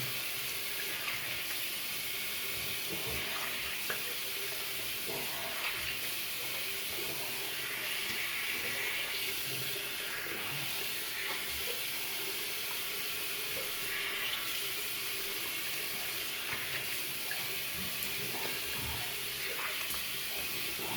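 Tap water running steadily while Arko shaving soap is rinsed off, a constant hissing splash that continues for the whole twenty seconds, moderately quiet with no talking.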